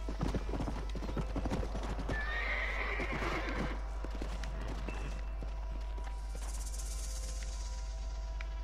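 A horse in a video game trots with close, rhythmic clip-clop hoofbeats. A shrill neigh rises midway, and the hooves carry on under fainter game sounds toward the end.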